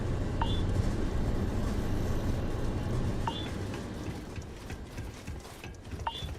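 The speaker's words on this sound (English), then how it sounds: "Why does it sound like this thing's beeping faster?" Short electronic beeps from a device in the video game Starfield recur at intervals over a steady mechanical rumble, with the gaps between beeps slightly shortening.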